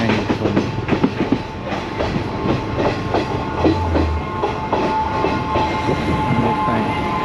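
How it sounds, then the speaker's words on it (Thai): A second-class train in Sri Lanka runs along steadily, with a continuous rumble of rolling wagons and a regular clickety-clack of wheels over rail joints, loud and close from inside the carriage. "รถไฟ"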